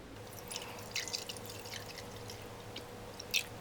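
Water trickles and drips into an MRE ration pouch, soft intermittent splashes and drops against a quiet background, close by.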